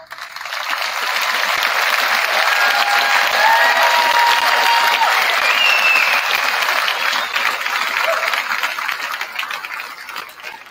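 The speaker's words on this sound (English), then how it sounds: "Students with gold cords, will you please rise and be recognized with a round of applause" Sustained applause from a large audience at an Athens High School graduation ceremony as gold-cord students rise, a dense steady clapping that swells then tapers near the end.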